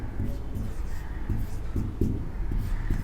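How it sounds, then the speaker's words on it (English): Chalk or a marker scratches across a classroom board in short repeated strokes, a close, low scraping rhythm as a word is written out, with no talking. "Let me write this side."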